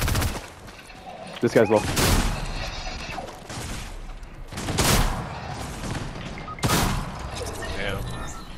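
Bursts of gunfire from a shooter video game, with sharp shots and rapid volleys scattered across the clip, loud against a busy game mix while players talk over it.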